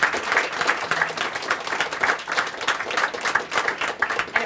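A seated audience applauds steadily at the close of a panel discussion on housing, schools and race, dense clapping sustained throughout at moderate loudness with no voices rising above it.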